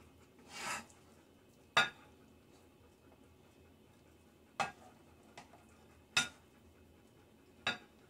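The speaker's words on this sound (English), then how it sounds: "The spatula is not strong enough to scoop it out." A spatula scrapes and knocks against a pan while scooping homemade smothered burrito filling, giving a few sparse, sharp clinks and scrapes spread over quiet background hiss.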